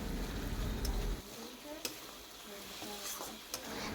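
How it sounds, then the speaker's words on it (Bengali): Vegetables stirred with spice powder in a pan for a Bengali chorchori, soft scraping stirs and light sizzle with a few sharp utensil clicks, fairly quiet after an initial low rumble. "গুঁড়োটা দিয়ে এখন একটু এরকমভাবে নাড়াচাড়া করে আস্তে আস্তে তারপর নামিয়ে ফেলবো"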